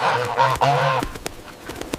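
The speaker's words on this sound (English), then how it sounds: "This is a goose." A farm goose honks loudly at close range, giving a couple of nasal calls that are followed by a few faint clicks.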